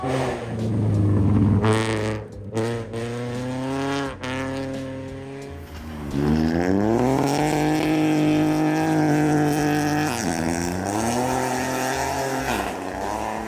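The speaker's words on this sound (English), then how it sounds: "That is Leah Block pulling into the end of stage 15, currently leading Sno Drift Rally" A rally car at the Sno*Drift Rally pulls into the end of stage 15 with a loud, close engine note that climbs and falls through gear changes and revs, with brief drops in throttle before building again.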